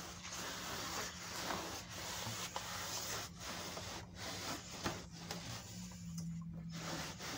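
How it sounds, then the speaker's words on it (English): Cloth wiping down a freshly finished bathtub after spraying it, a steady soft rubbing and scrubbing texture that continues throughout at low level, with no talk. "just wipe it all down."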